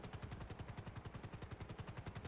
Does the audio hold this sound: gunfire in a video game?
yes